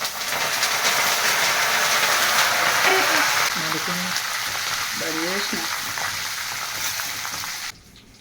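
Chillies, curry leaves and peanuts fry in hot oil for a bitter gourd snack, giving a steady broadband sizzle throughout, with a few faint voices briefly audible in the background before the sizzle cuts off near the end.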